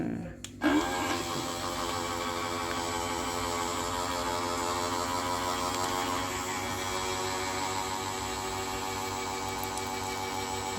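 A rechargeable electric drinking water pump on a 5 gallon jug starts with a click and then runs with a steady, even motor whine and hum, close and continuous.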